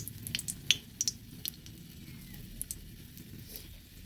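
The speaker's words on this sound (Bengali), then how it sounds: "এবার কড়াইতে তেল দিয়েছি তেলও গরম হয়ে গেছে এবার আমি দুটো একটা শুকনো লঙ্কাকে ফাটিয়ে দিয়ে দিয়েছি" Dried red chillies splutter in hot oil in a wok, making a soft, low sizzle broken by a few sharp crackling pops, with light stirring sounds nearby.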